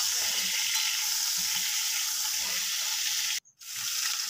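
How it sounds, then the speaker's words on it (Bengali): Large potato chunks for a Kolkata-style garlic mutton curry fry in oil with turmeric, giving a continuous close sizzle with faint stirring and a brief drop to near silence toward the end. "তো এটা ভেজে নিচ্ছি ভালোভাবে"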